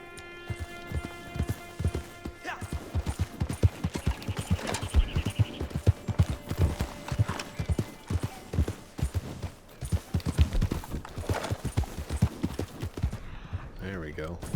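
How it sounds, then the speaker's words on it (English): A black Arabian horse gallops in the Red Dead Online video game, its hooves pounding in a quick, steady rhythm that runs for most of the stretch before easing off near the end. Someone talks over the hoofbeats. "I just got the black Arabian horse in my game."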